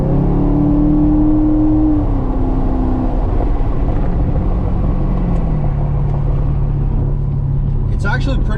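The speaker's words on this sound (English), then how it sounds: "So setting off in the 2018 Grand Sport, how does it drive?" A 2018 Chevrolet Corvette Grand Sport pulls away, its V8 engine droning loud and close with a tone that climbs then settles into a steady low rumble.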